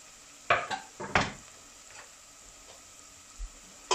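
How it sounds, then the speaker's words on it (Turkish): Diced potatoes tumble into a cooking pot for black cabbage soup, giving a few sharp clattering knocks about a second apart, then a brief quiet before one more clatter. "ufak ufak doğramış olduğumuz patatesleri de hemen ilave ediyoruz. Tencereye."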